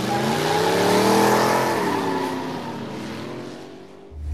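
Turbocharged car pulling away onto an asphalt road, engine note climbing steadily in pitch through the gears, loud and close from inside, then easing off briefly before building again.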